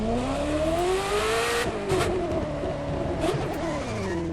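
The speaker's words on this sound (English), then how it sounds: "I love the flutter in the engine, and what that is, that's it hitting the rev limiter" A Ferrari F40 in the racing game The Crew 2 revs hard and bounces off the rev limiter with a fluttering, rising engine note, then drops and climbs again, loud and alone.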